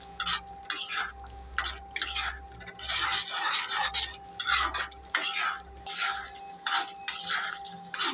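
Dried chepa shutki fish mash being stirred and fried in a pan, with rhythmic bursts of spatula scraping against the pan over a low sizzle, close up.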